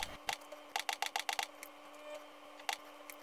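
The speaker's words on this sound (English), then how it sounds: "Now get a katungulu and cut it up in long slices." An onion being sliced into long strips on a cutting board, with a quick run of crisp knife taps followed by a few scattered single chops, close and fairly quiet.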